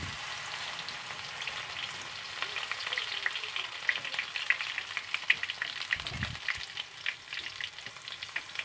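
Crushed garlic frying in hot oil for an olive pickle, a dense, steady crackling sizzle like light rain that stays close and even throughout, with a brief low thump near the end.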